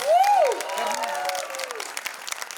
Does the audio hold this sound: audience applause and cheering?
yes